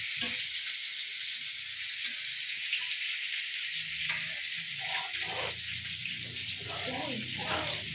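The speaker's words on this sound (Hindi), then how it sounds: "तड़का, छोटा कढ़ाई" Tadka tempering sizzles in a small wok for dal in a home kitchen, a steady hiss of hot oil running throughout, with lower stirring and clattering sounds joining in the second half.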